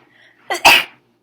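A voice mimics a single sharp sneeze, a brief inhaled build-up followed by an explosive burst, close and alone.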